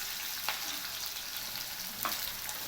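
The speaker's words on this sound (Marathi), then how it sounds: "कांदा भाजून घ्यायचा" Chopped onion sizzling steadily in hot oil in a pan for Kolhapuri upit, after green chillies, with a constant crackling hiss and two brief scrapes of a spatula stirring.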